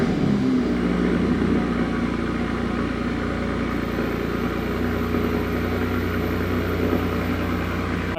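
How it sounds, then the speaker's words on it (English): An Audi B9 SQ5 with an Integrated Engineering catback exhaust cold-starts and settles into a steady, rumbling idle, close by and continuous, with no voices. "it's time for a cold start"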